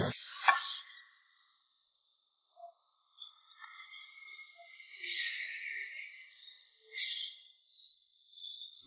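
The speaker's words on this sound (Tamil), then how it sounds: "இது நம்ம தேங்காய் பால் ஊற்றுறோம்." Coconut milk poured into simmering black chana masala curry, soft hissing and gentle sizzle rising in a couple of brief surges over a quiet background.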